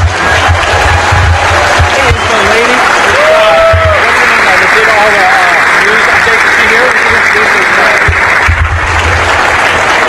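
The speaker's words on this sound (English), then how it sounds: "let's give them a round of applause" A hacker conference crowd at an awards ceremony applauds the winning team, a loud sustained wash of clapping lasting throughout, with scattered whoops and voices mixed in.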